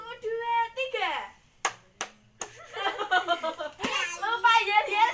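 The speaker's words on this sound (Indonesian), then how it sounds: "Tepuk tangan." Children in a class clap their hands in a brief burst between stretches of a child's and an adult's talk, close and indoors.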